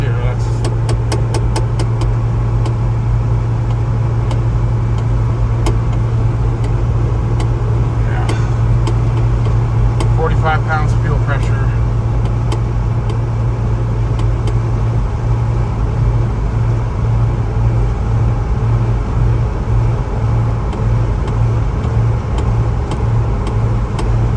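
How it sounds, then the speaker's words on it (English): 1995 Geo Tracker engine floored in third gear, a loud steady droning engine and road roar with a low hum throughout, a voice speaking over it. "Now we're in third gear floored and we're stuck on 62."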